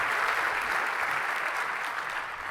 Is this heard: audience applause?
yes